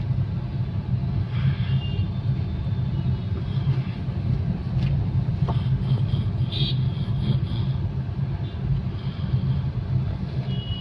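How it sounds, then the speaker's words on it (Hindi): Steady low rumble of slow, congested road traffic heard from inside a car on a drive from Delhi to Gurugram, a constant engine and road drone with faint higher noises, no talk. "ट्रैफिक देखो, ट्रैफिक का भी अद्भुत नज़ारा, जाम हो रहा है।"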